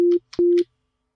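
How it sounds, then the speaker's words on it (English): A pure sine wave from a single synthesizer oscillator, played as two short, steady, clean notes at the same pitch. Each note starts and stops with a small click, and silence follows. "Okay, so we have that sine wave."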